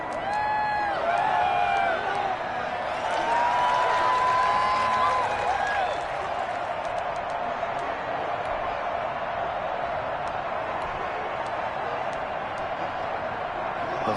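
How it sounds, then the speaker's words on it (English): Stadium crowd roaring at a Kansas City Chiefs home game against the Broncos, a dense sustained wall of cheering and whoops, loudest early and then easing slightly, with a voice talking over it. "The crowd's not doing that O-line any favors."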